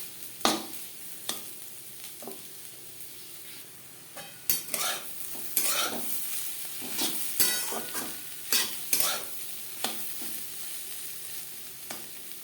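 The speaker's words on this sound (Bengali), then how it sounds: "ডিমের আলুর সাথে ডিম বেশ ভালো করে মিক্স করে দেবো এক দু মিনিট নাড়াচাড়া করে নেবো" Egg and potato bhujia stirred in a pan over a medium gas flame: repeated scraping strokes of a spatula come in irregular bursts over a soft, steady sizzle, close and fairly loud, with no talking.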